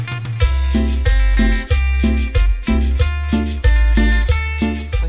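The song plays loud and clear, with a steady rhythmic beat, bass and bright repeated chords, and no talking over it.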